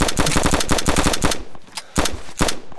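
Rapid automatic gunfire in an online shooter game during a send-off between rival clans, a dense loud burst of shots for over a second, then a pause and a few more separate single shots.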